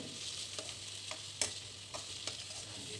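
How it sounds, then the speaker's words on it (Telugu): Chopped onions frying with cumin seeds in a pan, a soft, fairly quiet sizzle punctuated by a few crisp spatula taps and crackles at irregular intervals. "ఈ జీలకర్ర వేగాక ఈ ఆనియన్ ముక్కలు కూడా వేసి వేయించుకోవాలి"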